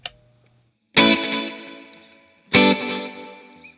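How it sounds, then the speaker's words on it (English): Electric guitar played through a tape echo pedal that feeds the signal back through four tape heads for a reverb-like wash; two loud strummed chords ring out one after another, each decaying in a long, smeared, repeating tail. "what I think the original units did would feed back the sound through all 4 tape heads again, and that's where we get this, I'll call it reverb"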